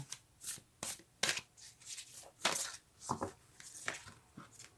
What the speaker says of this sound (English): Come on, little cards. Usually they shuffle very well.